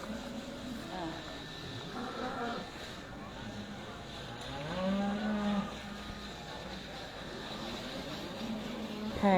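Aberdeen Angus cattle moo repeatedly at the Great Yorkshire Show 2024, with long low calls rising and falling over a busy showground murmur and talking nearby.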